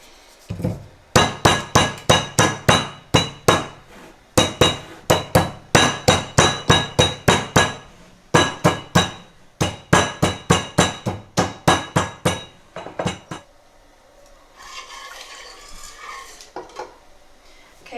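Almonds are pounded in a mortar, likely with a pestle, in a home kitchen: sharp rhythmic strikes in quick bursts with short pauses, close and loud, followed by softer grinding scrapes at the end.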